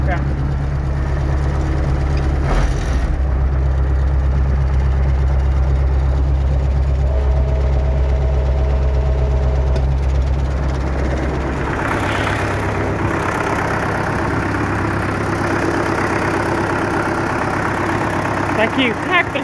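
MTZ-80 tractor diesel engine idling evenly after a cold start in frost without preheating: a loud, steady low rumble running without a break from start to finish.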